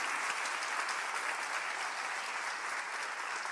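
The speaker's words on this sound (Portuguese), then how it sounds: "Vamos aplaudir a Ele." A church congregation applauds in steady, dense clapping that holds at full strength throughout, with no break or fade.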